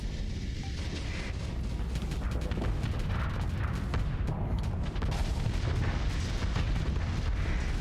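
Ships open fire in the space strategy game Starsector, a continuous barrage of booming weapon blasts and explosions rolling on without pause, loud and dense throughout.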